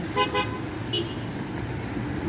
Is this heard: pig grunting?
no